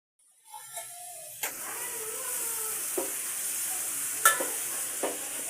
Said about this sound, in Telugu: ఇట్లా అన్నీ నూనెలో మంచిగా ఉడకాలి